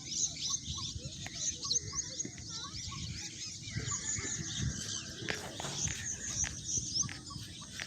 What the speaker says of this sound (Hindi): इधर भी इंडियन मैना है।